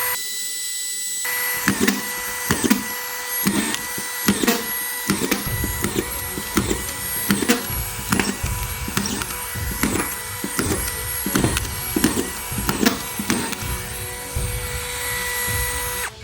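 A DeWalt DCF630 cordless magazine screwdriver fires in a rapid series of sharp hammering bursts driving screws into wood, repeated many times over a steady mechanical whir.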